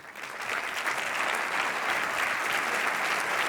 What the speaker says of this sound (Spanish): te recibimos con un fuerte aplauso